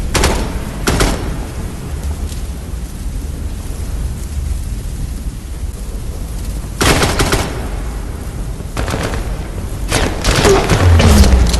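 Gunfire from a new gun during a video game mission: several short bursts of rapid automatic shots, loud and close, separated by quieter gaps.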